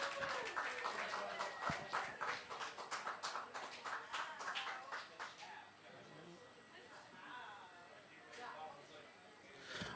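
Open mic audience at The V-Spot in Scranton claps for a performer, a burst of fast, close hand claps that thin out and fade after a few seconds, with a voice over the tail.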